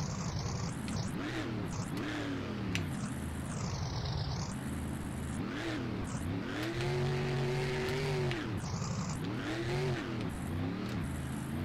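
Several cars race and rev hard in the Rigs of Rods driving game during a freestyle run. Engine notes rise and fall in continuous overlapping sweeps, loud and close, with brief tire squeals and no talking.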